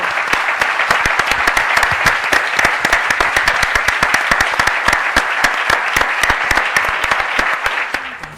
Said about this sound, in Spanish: Bueno, pues aplauso.